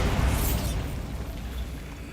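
Bombarda spell explosion in Hogwarts Legacy: a sudden burst with a bright crackling onset that settles into a sustained rumbling roar and a slowly fading debris wash.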